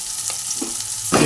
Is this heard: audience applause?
no